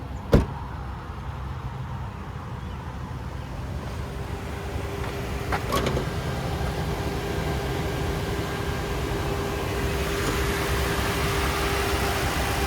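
A 2003 Toyota Sequoia SR5 with its 4.7 liter naturally aspirated V8 idles in a steady, low hum, with a couple of sharp clicks and a faint whine over the engine and no talking.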